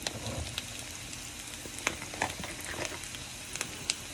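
Wild mushrooms cooking in a pan for risotto, a soft steady sizzle with scattered pops and crackles, close and fairly quiet.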